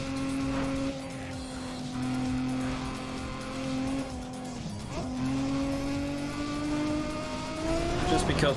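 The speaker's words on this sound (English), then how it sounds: "Because we can, we're gonna hit that nitrous here!" Race car engine in Need for Speed ProStreet on the Autobahnring track, holding a loud steady high-revving drone as nitrous kicks in, with a brief dip and swell midway, tire noise and a voice talking over it.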